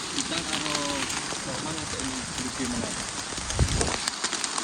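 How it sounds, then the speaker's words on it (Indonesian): Steady rain falls in a constant hiss on Mount Ciremai during bad weather while a person talks over it nearby, with a brief thump toward the end. "hujannya ditungguin, nggak reda-reda, kayak reda terus hujan lagi, reda hujan lagi"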